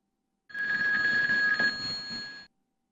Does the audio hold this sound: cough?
no